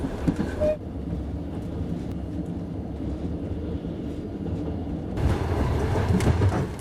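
A train rolls along its rails on a long cross-country journey, a steady low rumble with rhythmic rattling throughout, swelling louder and closer near the end.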